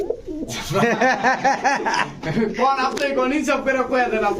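Domestic pigeons of several fancy breeds coo in a steady, overlapping chorus close by, with repeated throaty bubbling calls filling the whole stretch.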